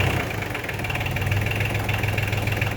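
Iseki TL series compact tractor engine running steadily after a repair, a continuous close idling rumble with a low throb and mechanical clatter, no voices.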